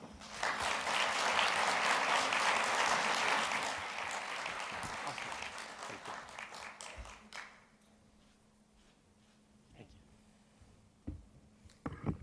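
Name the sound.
audience applause welcoming speaker John Shoraka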